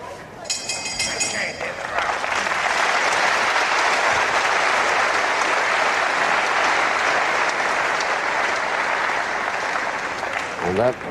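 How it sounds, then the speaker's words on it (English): An appreciative crowd applauds at a boxing match after a hard round, a sustained wash of clapping that swells quickly and holds steady for several seconds before tapering off. "a lovely sound to hear the really appreciative crowd applause after a really good round by both men"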